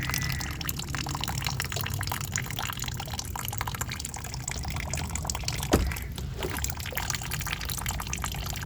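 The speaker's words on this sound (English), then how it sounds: "pull the hoses off the motor and be prepared for some washer fluid to drain out." Windshield washer fluid draining from a Kia Sportage reservoir into a container below, a steady faint trickle and spatter of liquid running continuously with one small knock partway through.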